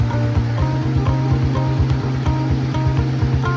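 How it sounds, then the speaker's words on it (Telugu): Vada batter is beaten hard by hand in a bowl, making rapid, evenly paced wet slaps and squelches, close and continuous with no talk. "ఇప్పుడు ఈ రెండింటిని కలిపి బాగా బీట్ చేసుకోవాలి"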